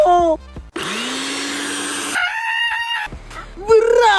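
A mixer grinder (mixie) switches on and spins up to a steady whine for about a second and a half. Loud, animated voices come before and after it.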